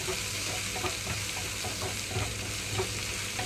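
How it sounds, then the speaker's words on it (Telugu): Tamarind leaves cooking in a pan on a low flame, giving a steady, close frying sizzle with occasional soft stirring scrapes. "చింత చిగురు వేసిన తర్వాత లో ఫ్లేమ్లోకి టర్న్ చేసి రెండు నిమిషాల పాటు ఉడికించుకుంటున్నాను"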